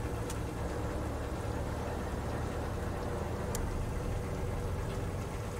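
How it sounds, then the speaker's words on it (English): A low, steady diesel engine rumble in the submarine game Wolfpack runs throughout, dense and constant with a couple of faint high clicks, staying level rather than clearly rising. "immediately you'll hear this engine spool back to life again"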